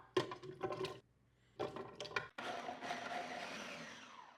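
A blender purees soup in two short pulses, then runs in one longer continuous whir that fades gradually. It is moderately close and heard alone, with no voices.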